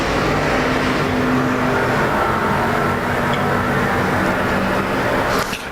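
Pure stock race cars roaring around the Arizona speedway oval in a main event, a steady loud engine drone from the pack with a rising whine as a car passes near at the end.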